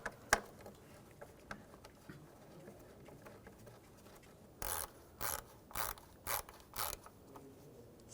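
A ratchet snugs down the front valve cover bolts on a 2004–2009 Audi A4 Quattro 2.0L engine, giving several short, crisp clicking bursts in quick succession after a quieter stretch of faint handling noise.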